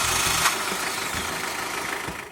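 A 1995 Toyota TownAce 4WD diesel van engine running steadily at a low idle-like rumble, close and fairly loud, with a faint higher whine and no talking.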